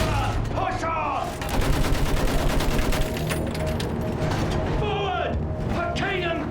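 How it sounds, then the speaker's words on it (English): Sustained machine gun fire in the Battlefield video game, rapid continuous bursts filling the scene over steady battle noise, with shouted voices coming and going. "Use that machine gun!"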